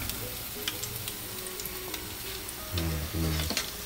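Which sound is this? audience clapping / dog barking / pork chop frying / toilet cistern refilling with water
pork chop frying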